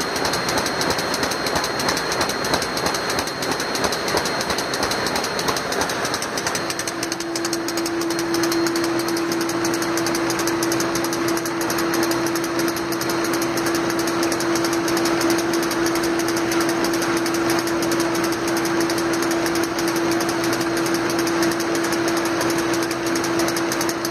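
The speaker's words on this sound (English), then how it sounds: "Plow folding action here." A plow folding machine runs nearby, giving a loud, steady mechanical roar with rhythmic clatter. A constant whining tone joins in partway through, and no one speaks.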